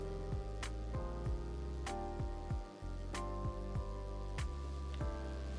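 A tattoo machine shading skin buzzes in a steady, close drone, its pitch wavering as the needle whips in and out, with a brief dip partway through.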